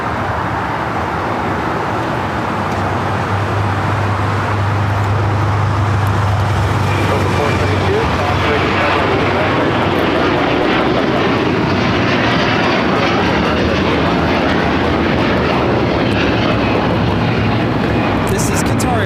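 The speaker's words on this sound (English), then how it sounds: "This is Qatar Airways 740 taking off to Doha on the A350-1000" Qatar Airways Airbus A350-1000 taking off at LAX, its deep, loud engine roar building and rumbling steadily for the whole stretch, with a low drone underneath and voices talking over it.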